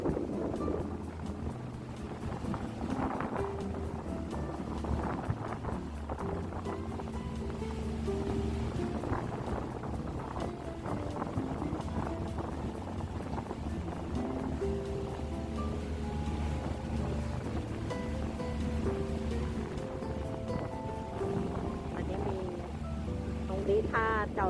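A two-deck ferry crosses the sea toward Kowloon in Hong Kong on a clear sunny day, with a steady engine rumble, water wash and wind buffeting the microphone, and a voice talking over it.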